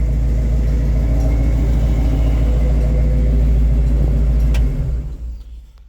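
Engine of a 1958 Ford F100 pickup revving and holding a deep, loud, steady rumble up close, then easing off and dropping away near the end.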